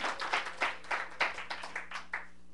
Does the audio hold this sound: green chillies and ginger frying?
no